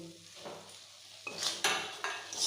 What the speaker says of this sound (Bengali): এবার আমি চিংড়ি মাছগুলো দিয়ে একটু কষে নেবো